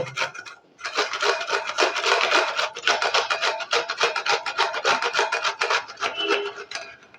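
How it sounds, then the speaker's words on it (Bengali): Pieces of pineapple being grated by hand on a metal grater, producing a fast, rhythmic rasping scrape of repeated strokes, close and alone with no talk. "আনারসের টুকরোগুলো একটা একটা করে আমি হাতে নিয়ে নেব আর ঠিক এইভাবে ঘষে ঘষে আমি গ্রেট করে নেব"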